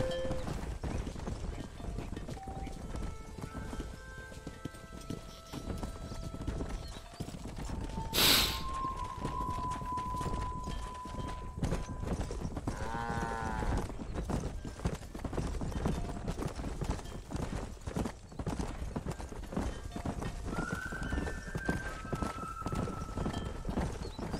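Horses and cattle being herded out to pasture in the Western video game Red Dead Redemption, with steady hoof clip-clop and occasional whinnies over a busy ambient bed throughout.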